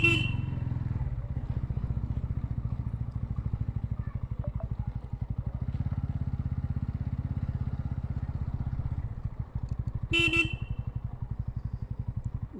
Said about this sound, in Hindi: मैं यहाँ पर एकदम हॉर्न मारते मारते जाता हूँ